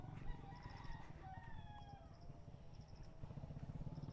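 A rooster crows in a long drawn-out call over a dense background of clucking hens and other birds chirping nearby on a countryside farm.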